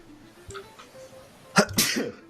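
During a tabletop D&D session, one person lets out a single sharp sneeze near the microphone after a few quiet, faint background sounds.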